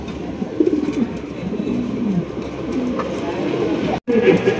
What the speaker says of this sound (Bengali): মালটেস কবুতর এইভাবে ডাকে আজকে ফার্স্ট টাইম এইভাবে ডাকতেছে